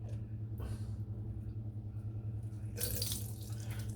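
Soap is rinsed out of a Simpson Chubby 2 shaving brush under a running tap. The water flows in a steady stream, then swells into a louder, brighter gush near the end, close up and without talk.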